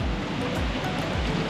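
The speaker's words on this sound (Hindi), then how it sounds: "ये देखिए आप, काफी शानदार झरना है भाई पानी का।" A waterfall in Ladakh gives off a steady, loud, broadband rush of falling water that is close and unbroken, with no voices over it.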